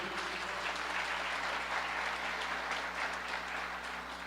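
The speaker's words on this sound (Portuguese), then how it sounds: "pode aplaudir Jesus" Church congregation applauding during a bishop's sermon, a sustained even roar of many hands clapping in a reverberant hall with a low steady hum underneath.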